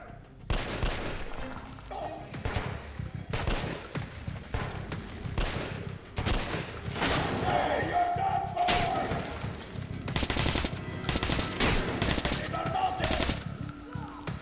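Pistol and SMG fire in Metro: Last Light crackles in repeated sharp bursts, some single shots and some rapid strings, loud and close throughout with thuds and impacts between.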